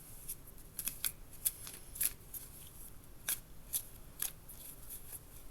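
Crisp papery flicks and snaps of tarot cards being shuffled, irregular bursts repeating close by with a faint background hiss and no talking.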